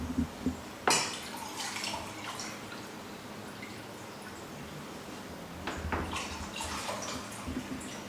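Tap water runs steadily into containers being filled for growth medium, about ten liters across two vessels, with a sharp splash onset and continuous close pouring and trickling, a few clinks near the end.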